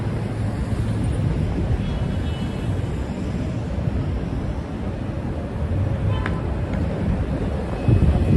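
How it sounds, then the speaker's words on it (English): Loud, constant wind buffets the microphone in a low rumbling roar on a Midtown Manhattan street at night, steady throughout with no speech. "it is quite windy"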